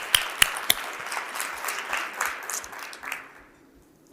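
Audience at a state literacy leadership event gives a round of applause, a few sharp near claps over moderate crowd clapping that fades out after about three seconds.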